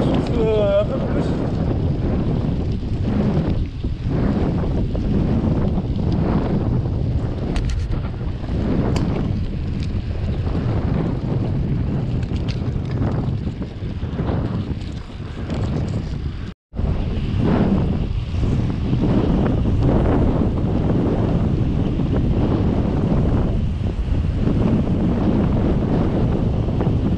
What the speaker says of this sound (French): Le vent souffle un peu plus.